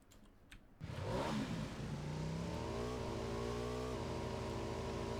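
Motorbike engine in the video game PUBG revving up sharply after a brief quiet start, then holding a loud, steady drone with shifting pitch.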